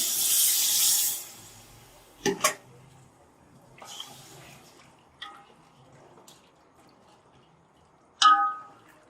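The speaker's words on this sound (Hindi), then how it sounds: "गोश्त फ्राई हो चुका है, अब यखनी डाल रहे हैं।" Chicken yakhni broth is poured into fried chicken in a cooking pot for pulao: a brief rushing splash of liquid, then a few sharp metallic clinks and knocks with quiet gaps between them.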